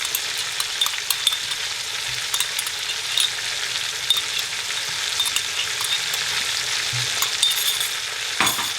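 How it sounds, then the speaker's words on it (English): Yogurt frying in masala with lamb for nihari over a very gentle flame, a steady close sizzle with occasional light clinks of a utensil stirring the pan. "And now let this yogurt fry in the masala on a very gentle flame"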